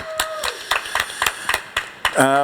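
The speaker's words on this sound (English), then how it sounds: "let's give Ian a big round of applause." A small street audience claps for Ian at a live outdoor talk event, giving a sparse, steady run of separate hand claps, close and fairly loud, with a voice breaking in at the end.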